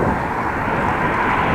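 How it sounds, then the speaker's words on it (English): Cars whooshing past on a straight rural road beside a bike lane, a steady broadband rushing roar filling the whole moment, close and loud with no talking. "Only cars whooshing by."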